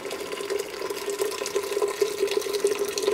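Water poured steadily into a pot of fried flour while making a pork soup, a continuous close splashing and gurgling stream with no speech.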